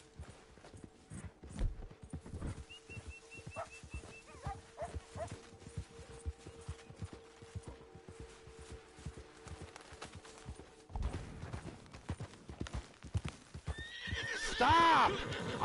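In the video game Red Dead Online, a horse whinnies loudly near the end after a long stretch of steady clip-clopping hooves, with occasional voices in the background.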